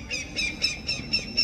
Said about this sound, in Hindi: आपने सुना इस उड़ती हुई चील ने क्या कहा?